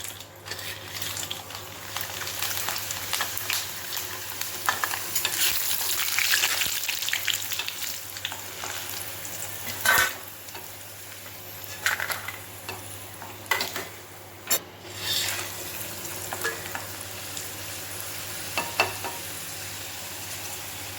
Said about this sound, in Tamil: இப்போ நம்ம வத்தலை வந்து வறுத்து எடுத்துக்கலாம்.